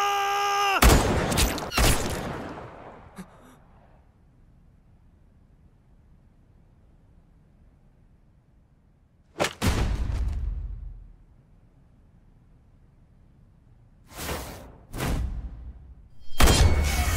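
Several loud, sharp bursts of gunfire ring out in a war film, a cluster at the start and further volleys later, separated by stretches of low hiss.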